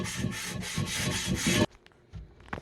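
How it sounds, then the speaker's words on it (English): Coarse salt scraped around inside a cast iron Dutch oven during its first seasoning, a close, loud rhythmic gritty rasping in about six strokes that stops abruptly, followed by a few quiet knocks. "so I got my salt. And I'm going to try to scrape it around. With this salt."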